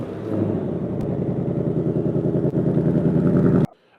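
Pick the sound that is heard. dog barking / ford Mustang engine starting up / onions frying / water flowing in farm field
ford Mustang engine starting up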